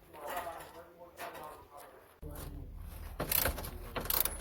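Mechanical clicking and ratcheting as the locking mechanism of a Mercedes electric steering rack being fitted to a 205 is worked, several sharp close clacks over a steady background noise.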